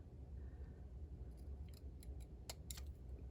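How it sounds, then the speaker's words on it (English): Scissors snip paper banner ends for a card project, a handful of quick, crisp cuts clustered toward the end over a very quiet background, with no speech. "now I just need to cut in to do my banner ends"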